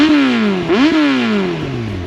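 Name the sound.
Yamaha R1 motorcycle engine revving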